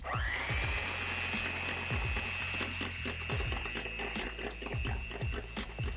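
An electric mixer whips a pink strawberry drink mixture, a steady high motor whine running continuously alongside repeated rhythmic low thumps and rattles from the beaters against the bowl.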